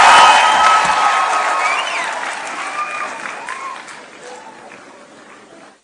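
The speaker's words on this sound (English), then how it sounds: "Let's give applause to His Excellency for such a wonderful speech" Loud applause with cheering from a crowd at a university graduation ceremony in Nairobi, following a speech by the Kenyan president; the dense clapping is strongest at the start and gradually fades over several seconds, with whoops and voices mixed in.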